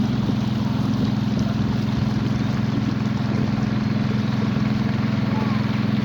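A boat motor drones steadily on a river trip through the Amazon, a low, even engine hum with a constant rumbling undertone that stays close and loud throughout, with no breaks.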